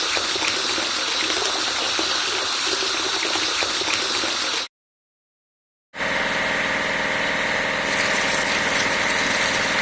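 Water sprays steadily over a toy tow truck being washed, a continuous hissing gush broken by a short silent gap before the spray resumes, with no talk.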